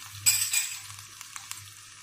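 Ingredients sautéing in a pan for a fettuccine pasta sauce, a soft sizzle with a brief louder burst near the start followed by light scraping and small clinks of a utensil against the pan, close and quiet.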